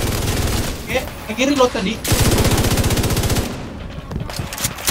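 Rapid automatic gunfire in The Division 2 during an Incursion mission boss fight rattles loud and continuous in sustained bursts, with a player talking briefly over it.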